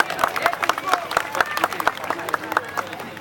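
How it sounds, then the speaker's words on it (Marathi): A festival audience at the inauguration of the Agri Koli Mahotsav claps in quick, scattered bursts, with voices and murmur carrying through the applause. "जोरात टाळ्या वाजल्या पाहिजेत"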